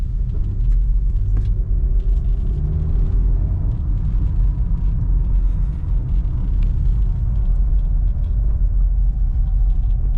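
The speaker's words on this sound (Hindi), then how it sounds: "ये देखिए फुल आरपीएम भी खींच रहा हूँ।" A Toyota Glanza/Baleno engine revs hard at full rpm while driving on the road, a loud, steady low rumble that fills the whole stretch with no talking.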